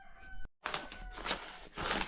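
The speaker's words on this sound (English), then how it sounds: "My neighbor's chicken does not allow me to prosper." A chicken in a Mombasa neighbourhood clucks and croaks in short bursts, close and fairly loud, with a brief silent gap near the start and some faint tonal hum early on.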